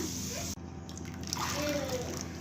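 Kara snack dough frying in hot oil gives a steady, close crackling sizzle throughout, with a voice faintly present over it.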